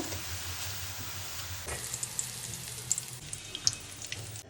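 Quiet, steady sizzle of sliced onions frying in oil until crisp for biryani, with a few small pops and clinks near the end.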